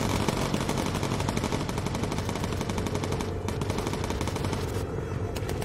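Bomber Crew video game: continuous rapid machine gun fire strafing a heavy fighter, a dense unbroken rattle of shots at a steady high loudness throughout.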